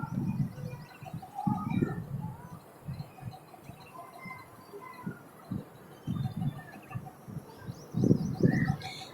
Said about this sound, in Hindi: परिंदों की आवाज़, चिड़ियों के चहचहाने की